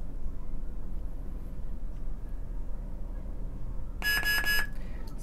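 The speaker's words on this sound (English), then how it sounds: "we press the button and we hold it till we hear 3 beeps" Near the end, a loud cluster of three quick electronic beeps from a Sabertrio lightsaber hilt sounds against a steady low hum, running together too closely to count.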